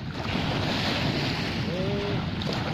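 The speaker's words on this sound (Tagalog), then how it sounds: "ito po yung dagat namin" Surf washing onto the shore at a seaside fishing spot in the Philippines, a steady broadband roar mixed with wind buffeting the microphone, continuous and fairly close with no speech.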